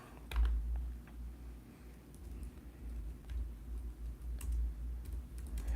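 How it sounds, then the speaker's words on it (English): Quiet, close keystrokes on a computer keyboard, scattered soft taps over a low room hum, fairly faint throughout. "I might have to type it in."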